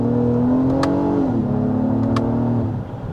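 A 2022 Acura MDX or 2021 Lincoln Aviator SUV engine hums steadily and loud from inside the cabin while accelerating, its pitch stepping down once as it shifts, then settling; a couple of faint clicks.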